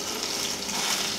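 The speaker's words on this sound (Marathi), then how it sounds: "तेल गरम झाल्यानंतर त्याच्यामध्ये जिरे टाकायचे फोडणीला" Cumin seeds sizzle in hot oil for a green mutton tempering, a dense, steady hiss close by and fairly loud, with no talking.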